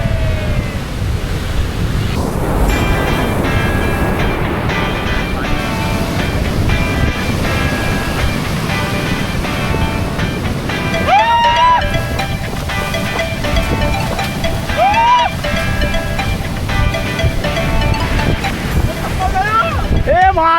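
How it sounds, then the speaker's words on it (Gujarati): Fast sea waves surge steadily onto a Gujarat shore, a loud continuous wash of surf with strong wind rumbling against the microphone, while tonal chirps and a voice appear briefly over it. "અહીંયા તો મોજા બહુ જ એકદમ ફાસ્ટ આવી રહ્યા તમે જુઓ"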